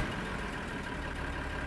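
Tractor engine in Farming Simulator 2013, a steady broadband drone idling and running at a constant level throughout, with no speech.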